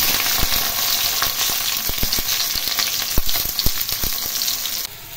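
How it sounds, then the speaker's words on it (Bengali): Eggplant hits hot oil already holding dried and green chillies and mustard seeds, setting off a loud, crackling sizzle. Repeated sharp pops and spatters run through it until it cuts off near the end. "गरम तेले शुकनो लंका एबं सर्षे फोड़न दिलाम, दुटी काँचा लंका दिलाम, एखन बेगुन दिए दिलाम।"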